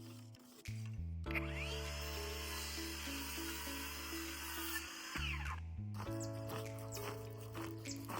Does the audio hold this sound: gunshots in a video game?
no